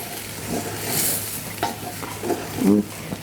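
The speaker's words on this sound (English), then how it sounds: "I'm going to stir this thing up a little bit. Mix it in there with our vegetables." Vegetables coated with chili powder are stirred in a pot over a steady sizzle, with a few scraping strokes of the spoon and a brief voice near the end.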